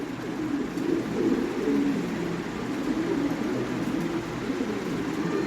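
Lahori pigeons coo in a continuous low, throaty rolling murmur, with several birds overlapping close by and no voices.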